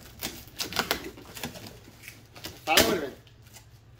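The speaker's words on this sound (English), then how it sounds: "This paper, it was shaking. You can hear stuff in it." A paper-wrapped package with items inside is shaken in a burst of crinkling paper and rattling contents, with a louder surge near the end, amid speech and handling noise.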